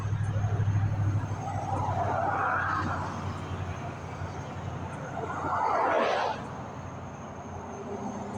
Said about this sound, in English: We are waiting for the cars to pass so we can cross the street